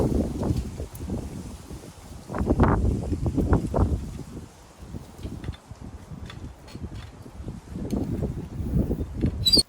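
Wind gusting outdoors during a survey-pole setup, buffeting the microphone in rough low rumbling bursts that swell, ease off midway and build again toward the end, with faint rustling.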